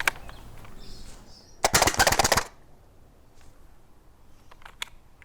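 Full-auto HPA foam dart blaster firing a rapid mag dump, a dense, loud burst of clattering shots lasting under a second, followed by quieter room noise and a few faint clicks.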